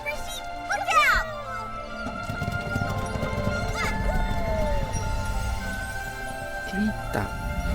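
Horse hooves clip-clop in the video game Infinity Nikki, with a whinny near the start, all mixed with game music, chimes and effects rather than standing alone.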